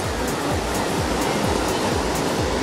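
Spring-fed water at Barton Springs pool in Austin, Texas rushes and splashes in a loud, steady broadband wash with a gentle pulsing rhythm, close by and without talk.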